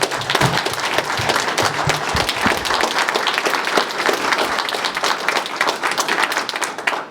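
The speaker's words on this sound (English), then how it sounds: "Big round of applause for our candidates." Audience at a Hartford Selectboard candidate forum applauds the candidates, a dense, steady round of clapping with crowd noise that holds strong and close for the whole stretch without letting up.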